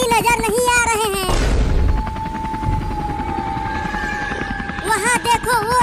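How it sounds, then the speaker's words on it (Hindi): A cartoon helicopter flies high above a village, its steady rotor chop pulsing evenly for several seconds between stretches of animated voices. "हेलीकॉप्टर तो बहुत ऊपर आ गया है"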